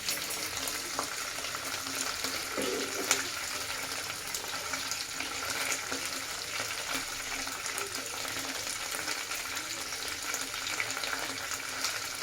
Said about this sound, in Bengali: অল্প আগুনের মধ্যে এটা ভাজবে অনেক সুন্দর হয়